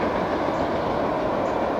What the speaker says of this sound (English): Pretty noisy train, isn't it?